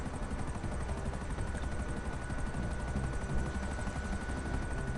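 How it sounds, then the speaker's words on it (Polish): A video game helicopter's rotor thumps and engine whine fill the scene steadily, close and loud, with no talking. "Zaraz mi się rozwali helikopter."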